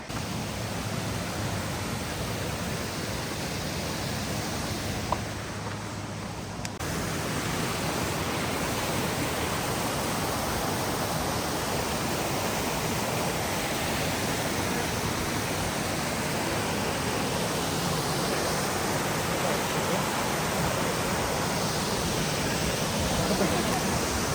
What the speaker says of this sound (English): We made it to the viewpoint of the waterfall.